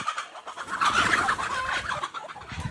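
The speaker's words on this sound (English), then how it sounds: "We're gonna feed the chickens so you see how to catch one." Chickens cluck and squawk in a busy, overlapping jumble at close range during feeding, with outdoor noise underneath and no talk.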